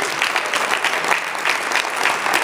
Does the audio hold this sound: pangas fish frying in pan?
no